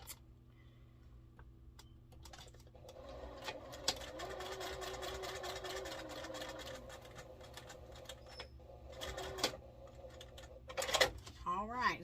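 A sewing machine runs in bursts while stitching quilt block pieces, its rapid whirring and ticking starting and stopping among handling noises and rustling, with quiet talk nearby.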